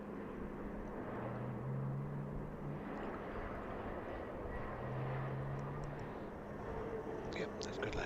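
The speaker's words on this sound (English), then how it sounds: "that plane's landed quite well now" An Airbus A320 rolls out after landing at Heathrow, a steady distant jet roar with a low engine hum beneath it, while people talk over the noise.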